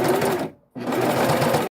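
A sewing machine runs steadily while hemming fleece with a twin needle, stitching in two bursts separated by a brief pause, close and loud with no talking.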